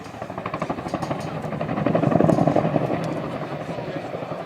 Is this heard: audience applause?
no